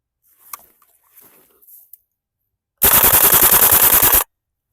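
A WE Airsoft MP5SD gas blowback rifle fires a fast full-auto burst of about one and a half seconds, loud and close, with a rapid even clatter of shots after a few faint handling clicks.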